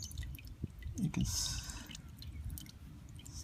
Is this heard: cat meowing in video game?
no